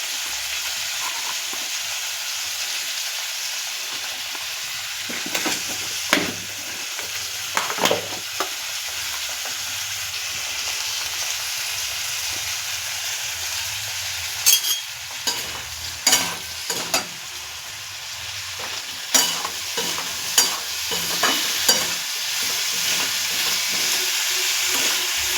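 Food frying in a pan during home cooking, with a steady close sizzle and hiss, broken by irregular scraping and clacking strokes as it is stirred.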